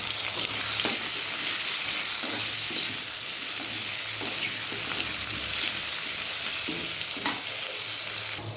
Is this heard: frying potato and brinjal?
yes